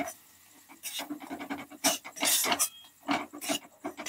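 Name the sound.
spices being sautéed and stirred in a pan for fish curry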